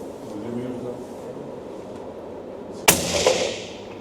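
A single sharp Hardy Hybrid rifle shot is fired at a target outdoors, a loud crack with a brief ringing tail, preceded by a stretch of background murmur.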